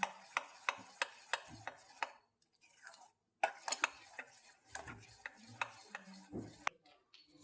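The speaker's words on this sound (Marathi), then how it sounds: "जोपर्यंत तेल पूर्ण यामध्ये ऍब्झॉर्ब होत नाही तोपर्यंत एकाच डायरेक्शननी याला छान फेटून घ्यायचं" A whisk beats dhokla batter in one direction in a bowl, giving a steady run of sharp, close rhythmic clicks and taps, with a brief pause partway through before the regular strokes resume.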